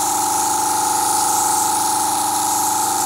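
An airbrush compressor runs with a steady, loud mechanical hum and hiss as leftover blush makeup is sprayed out during cleaning, continuous and close with no speech.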